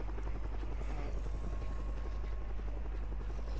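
Video game helicopter idling with a low rotor thrum and steady engine drone, continuous and close, with no clear talk over it.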